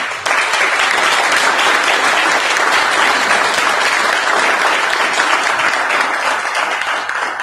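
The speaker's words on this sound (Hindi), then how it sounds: "तो जिसने भी आपको बुलाया एक बार उसके लिए तालियां बजा सकते हैं।" A seated audience at a network-marketing business seminar applauds loudly and steadily, many hands clapping together close by for several seconds without a break.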